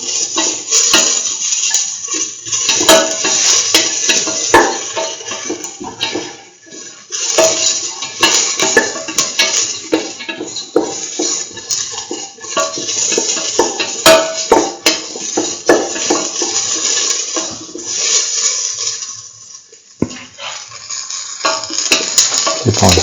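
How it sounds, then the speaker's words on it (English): Curried lentil rice with egg being sautéed and stirred in a pan, with steady metallic scraping and clinking of a utensil against cookware running continuously and fairly loud, close by, with no voices. "Saute and mix thoroughly."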